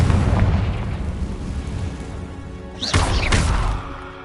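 Confringo explosive spell blast in a Harry Potter video game: a loud booming burst with a sharp crack near three seconds, followed by a second hit, over a dense rumbling game soundscape.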